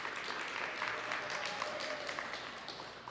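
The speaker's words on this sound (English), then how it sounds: "give yourselves a round of applause" Athletes and spectators at a FINA qualifier competition for the 13U division applaud, a soft, distant patter of clapping in a reverberant space, faint and continuous with a low background hum.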